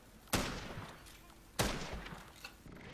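Two sharp shots from the BB weapon in the blocky shooter Block N Load, about a second apart, each a hard crack trailing into a short decay over steady game background noise.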